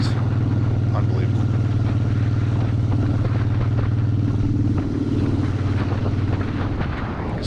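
A motorcycle cruises along the Intracoastal Waterway, its engine a steady loud low drone mixed with wind rush, and a rider's voice talking over it.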